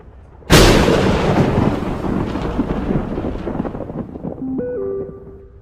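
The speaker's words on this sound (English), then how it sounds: "Why are they shooting me, but I can shoot them?" A loud sudden blast of GTA 5 gunfire, heard during Setswana-language roleplay, booms in and rumbles away over several seconds, with tonal game sounds rising near the end.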